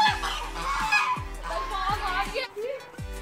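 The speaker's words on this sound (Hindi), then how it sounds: "भट्टी की बतखें" Ducks quack and honk in a noisy flock nearby, with overlapping calls and a low background hum.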